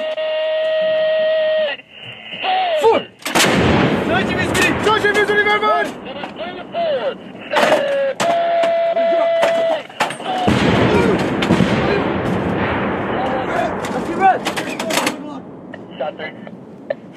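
M198 howitzers of an artillery battery firing, with loud sharp blasts and rumbling echoes breaking through crew voices and radio-like tones, several reports spread across the stretch.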